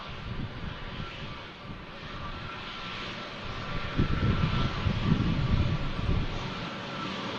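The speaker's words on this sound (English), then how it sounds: "A321 Neo." A Turkish Airlines Airbus A321neo at Manchester Airport produces a distant, steady jet roar that swells in the second half, with a low rumble and a wind-like hiss, and no talking.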